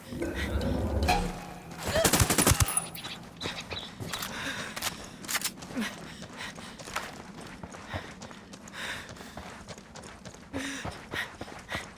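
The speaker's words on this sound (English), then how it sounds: "Yo, Sicario with a submachine gun." Gunfire from a submachine gun wielded by a Sicario enemy in Ghost Recon Wildlands, with a loud burst of rapid shots near the start followed by scattered impacts, footsteps and ongoing game action at moderate level.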